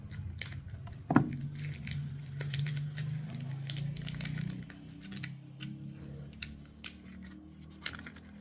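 Scissors snip an Episcia houseplant, a few short crisp cuts near the start, followed by quiet handling and light rustling close by, with no one speaking.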